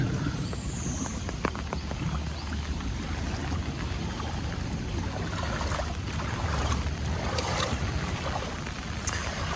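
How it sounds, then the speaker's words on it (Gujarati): Floodwater streams through a residential society during heavy rain, a continuous rushing wash of water with a low rumble and no voices. "કેવું પાણી ચાલુ છે। અત્યારે વરસાદ ચાલુ જ છે।"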